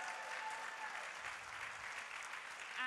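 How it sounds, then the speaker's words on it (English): A steady wash of audience applause at a workshop development day, fairly even and continuous throughout, with no voices standing out above the clapping. "A round of applause for my friend."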